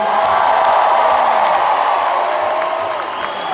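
A large arena crowd at a freestyle music concert in Amalie Arena, Tampa, roars with steady cheering and applause, loud and continuous throughout, with whoops over a dense wash of noise.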